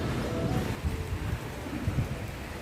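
Heavy rain pours steadily with a deep rumble of thunder rolling underneath, loud and continuous throughout, with no voices.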